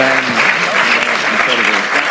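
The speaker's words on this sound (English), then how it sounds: "let's give Apostle Selman a round of applause real quick" Audience at Harvard University gives Apostle Joshua Selman a quick round of applause, continuous dense clapping throughout with voices and cheers mixed in.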